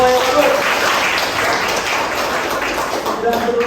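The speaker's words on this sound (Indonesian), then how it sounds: "Oke, tepuk tangan semua yang ikut." Audience applause at a university teaching session, a steady broadband clatter of many hands clapping that holds evenly through the whole stretch without a break.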